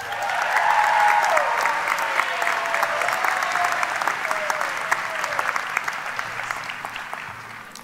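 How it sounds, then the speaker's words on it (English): Audience at a high school graduation ceremony breaks into sustained applause, many hands clapping steadily for several seconds with a few cheers, fading gradually toward the end. "if I could get a quick round of applause for Ms. Sandra Thompson and Mr. Jay Dufour."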